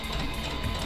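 A sewing machine sews a straight stitch through fabric, a fast close mechanical whir and steady rapid clatter with no talking.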